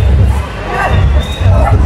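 A packed crowd at the Nashik Rangpanchami Holi festival roars and cheers loudly and close by, with shouts and overlapping voices forming a continuous din.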